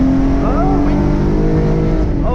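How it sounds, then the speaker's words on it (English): A Hyundai Genesis Coupe 3.8 fitted with a Solo Performance exhaust pulls hard from close to 60 mph, giving a loud, continuous exhaust drone with rising engine pitch heard from inside the car. "at least you got to hear the exhaust right there"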